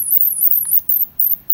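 Plug-in animal repeller for dogs and cats in its third sound mode, a rapid series of short, very high electronic sweeps pulsing in quick regular bursts, fairly loud and close.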